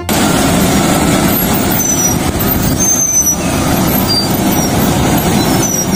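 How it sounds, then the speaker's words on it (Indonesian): A toy cement mixer truck gives off a loud, steady, hissing mechanical rumble with a high whine on top, holding constant for several seconds without talking. "yang ini mobil truk molen."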